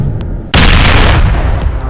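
Giant boulder attack crash in an animated superhero cartoon: a sudden, heavy booming impact lands after a short quiet lead-in, then roars on as a loud, sustained rumble with no talk over it.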